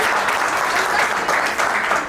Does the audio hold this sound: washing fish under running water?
no